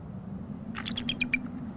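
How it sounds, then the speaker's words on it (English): Snow-covered female bald eagle on a nest in harsh winter weather, calling to her mate: a short burst of about six sharp, high, rapid chirping screams, fairly faint over a steady low background rumble. "she's screaming right now at the male"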